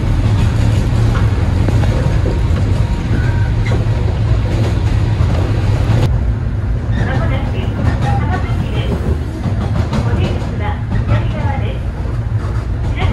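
A JNR type 103 rapid train runs on the Chikuhi Line between Shikaka and Hamasaki stations, crossing from Fukuoka into Saga. Its steady, loud rumble of wheels and motors carries all the way through, and a voice talks over it.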